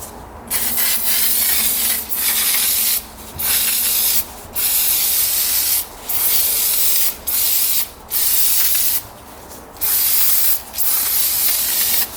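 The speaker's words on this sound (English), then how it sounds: "Oil this up with some foam filter oil here." Foam filter oil for a dirt bike air filter comes out of an aerosol can in a series of loud hissing spray bursts of about a second each, separated by short pauses, close up and alone.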